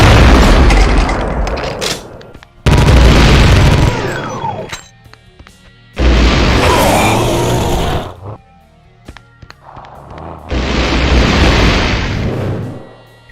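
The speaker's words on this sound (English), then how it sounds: "It can fire a couple of homing shots." Loud booming blasts burst out in three or four separate bursts from a monster firing homing shots in a Doom mod, each with a rumbling tail and quieter gaps between them.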